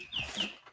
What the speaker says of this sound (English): This is one of the chickens that are in the room here.